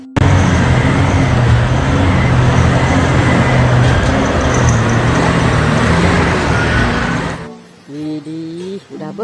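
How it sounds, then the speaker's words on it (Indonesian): A mining truck's engine rumbles loud and steady for about seven seconds, a continuous heavy drone that cuts off abruptly and leaves fainter, wavering tones. "Wah, lihat teman-teman, yang ini truk tambang"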